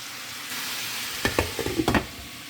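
Mung beans with spinach sautéing in oil, a steady soft sizzle broken by a few clinking stirs of a spoon against the pan near the end.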